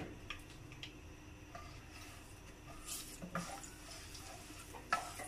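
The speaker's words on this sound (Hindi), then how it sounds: "थोड़ा सा मिक्स करें इसे।" A spatula stirs garam masala through hot ghee in a kadhai, giving faint, quiet scrapes and light ticks against a soft, steady background.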